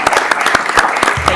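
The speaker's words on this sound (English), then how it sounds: "Let's give them a round of applause." Round of applause for university award winners at a board of regents meeting, loud sustained clapping from a room full of people, individual sharp claps standing out in the wash throughout.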